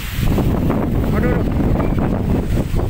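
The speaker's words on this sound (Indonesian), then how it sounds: "Angin topan ini sudah." Strong storm wind with heavy rain buffets the microphone in a steady, loud, rough roar, with a voice speaking under it.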